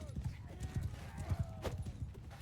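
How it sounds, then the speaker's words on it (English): Horses gallop through a Mount and Blade 2 Bannerlord battle, a steady rhythm of hoof clip-clops with a faint whinny, close and moderately loud under ongoing game noise and some talk. "Here come the horses."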